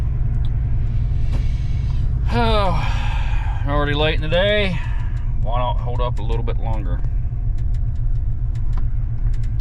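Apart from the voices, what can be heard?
traffic on the interstate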